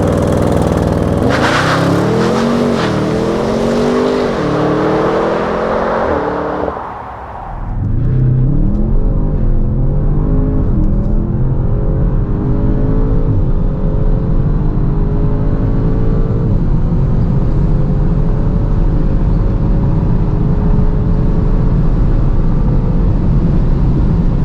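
Audi RS7 accelerating hard on a country road, loud engine rising through the gears with rapid upshifts, a brief dip at a shift, then a sustained strong pull with steady road and wind roar, no talk.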